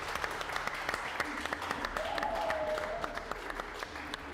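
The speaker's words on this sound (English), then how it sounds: "So give yourselves a round of applause." An audience applauds at a musicians' competition show, dense close clapping with scattered louder claps and a brief cheer or whistle mixed in.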